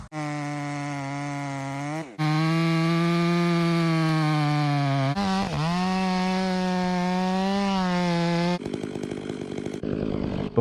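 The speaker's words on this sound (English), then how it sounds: "The lumberjack approaches, gripping his razor-sharp chainsaw. It roars to life with force." Chainsaw cutting into a massive tree, the engine revving loud and close in long sustained whines with pitch bends as it bites and eases, then a rougher rattling stretch near the end; no voices.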